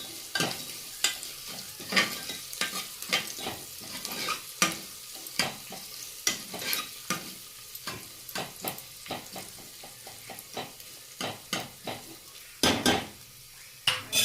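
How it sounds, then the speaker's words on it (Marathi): Garlic sautéed in a pan, with steady sizzling frying under frequent sharp scrapes and taps of a spoon stirring against the metal, close and fairly lively throughout. "लसूण मी ह्याच्यामध्ये चांगला परतून घेते"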